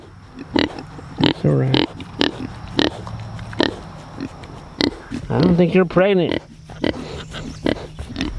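Kune Kune pigs grunt and snuffle close by in repeated short bursts, with one longer squealing oink, while a person talks gently over them.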